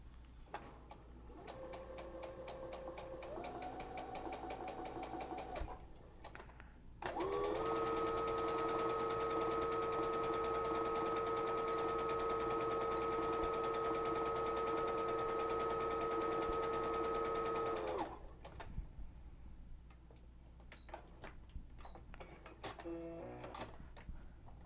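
A sewing machine fitted with a welting foot stitches piping in several runs: a steady mechanical whir with a clicking pulse, brief pauses between runs, and one long, louder stretch in the middle, close and with no voices.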